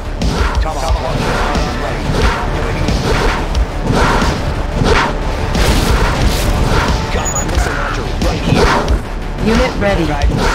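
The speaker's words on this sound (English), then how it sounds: "Tomahawk launcher." A Tomahawk missile launcher fires in Red Alert 2, Rise of the East mod, as dull booms and thuds land in a dense, loud mix of battle effects under in-game voice lines.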